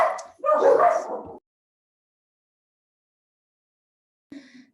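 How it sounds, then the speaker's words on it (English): A pet dog at home gives a short burst of barking and yipping up close, then falls silent, with one faint yip near the end. "I'm sorry, I have two dogs."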